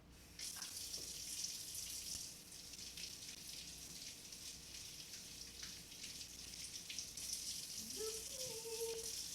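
Vegetables being washed under a running kitchen tap, a steady hiss of flowing water with splashing and small clatters near the end, close and continuous with no speech.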